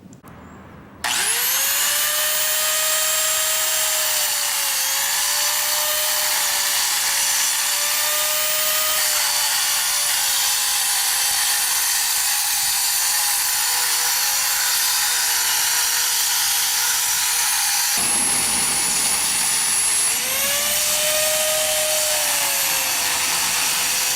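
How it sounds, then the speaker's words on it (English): A concrete saw plunge-cutting into a concrete slab, a loud continuous high whine that starts abruptly, holds steady with slight pitch dips under load, briefly drops and resumes, with no talking. "I'm going to plunge the saw"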